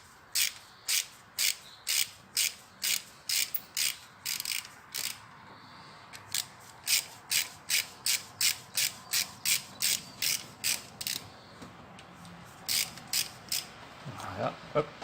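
Socket ratchet on a 7 mm Allen bolt of a Peugeot 308 during injector seal replacement, clicking in quick, even rapid bursts of crisp pawl ticks, close and alone.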